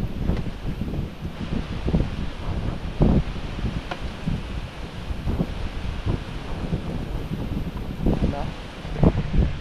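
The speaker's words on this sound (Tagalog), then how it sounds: "Grabe lakas ng hangin dito na side." Strong wind buffets the microphone on a side of a house, producing uneven low gusts and rustling that rise and fall throughout, with a person speaking briefly over it.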